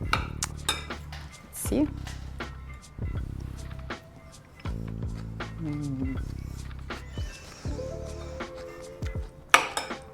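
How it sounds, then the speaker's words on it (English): Lentil salad is mixed in a bowl, with a utensil clinking and scraping against the dish in short, irregular bursts. The sound is close and fairly quiet, and someone speaks briefly in between. "I'll mix it a tiny bit more."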